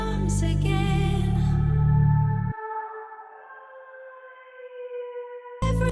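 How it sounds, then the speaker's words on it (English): A haunting, sustained synth pad in music production, with its tonal layers drawn out after a fuller musical passage stops and then drifting in a soft, hollow wash before the track kicks back in. "Haunting pad sounds like this."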